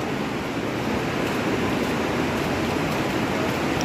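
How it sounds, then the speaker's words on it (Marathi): A powerful river current near Parshuram Kund in Arunachal Pradesh makes a steady, loud roar of rushing water, with no voices. "हे बघा प्रचंड पाण्याचा प्रवाह, खूप मोठी अशी नदी ही."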